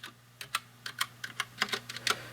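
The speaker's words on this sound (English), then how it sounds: "This one makes a very light sound, so I'll go ahead and press a couple keys." Keys pressed one after another on a GOFREETECH MK600 mechanical keyboard with brown switches, about a dozen light, soft, uneven taps heard close up in a quiet room.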